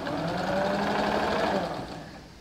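A sewing machine stitches along the edge of a pair of straight-cut ladies' pants, its rapid, steady whir running loud and close before slowing and fading near the end.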